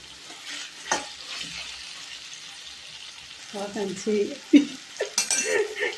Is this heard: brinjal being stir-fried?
yes